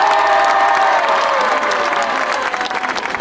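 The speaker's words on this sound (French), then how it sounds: "Merci Moussa, applaudissez-le." Crowd applauding Moussa Sissoko at the Aulnay-sous-Bois town hall, a steady dense wash of clapping that holds for a few seconds and thins slightly near the end.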